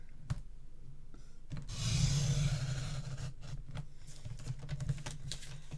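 Paper being cut for a Graphic 45 Ocean Blue mini album, a brief rasping slice that swells for about a second amid light tapping and handling noises, close and fairly quiet.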